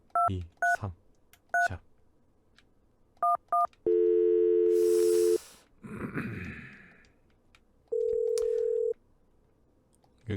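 A telephone in the Agent A puzzle game on Nintendo Switch gives short keypad dialing beeps in quick pairs. A steady dial tone follows, then a breathy noise, then another stretch of steady tone, all loud and close.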